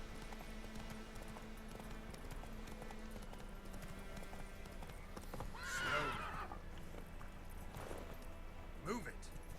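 Horse hooves drum steadily at a gallop in The Witcher 3, a continuous clip-clop carried under game music and ambient noise, with a brief whinny rising near the middle and another short snort toward the end.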